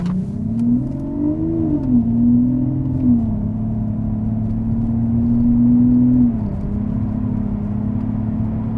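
A V12 car with straight-piped exhaust pulls away at about a third throttle, a smooth, steady, loud engine drone rising briefly in pitch, then holding an even tone before easing off near the end.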